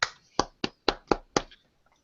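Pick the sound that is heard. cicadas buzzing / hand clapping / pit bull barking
hand clapping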